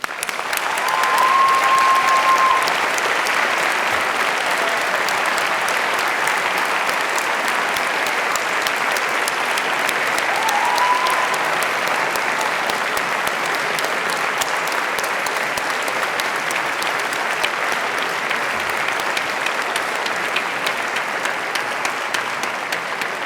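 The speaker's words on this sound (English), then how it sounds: "giving them a warm and enthusiastic round of" A large audience at a university graduation ceremony applauding steadily for over twenty seconds, dense sustained clapping that stays loud throughout.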